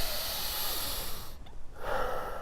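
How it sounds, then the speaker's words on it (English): A person breathes nasally, drawing air in through the nose in long, loud rushing hisses close by. A brief lull breaks the sound before another strong inward sniff. "you make a sound that rushes in through your nose like this"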